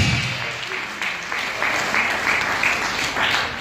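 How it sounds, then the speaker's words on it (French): A church congregation claps and applauds in worship, a steady, loud wash of many hands filling the room for several seconds, with a voice faintly heard at the start. "Can you clap the Lord Jesus?"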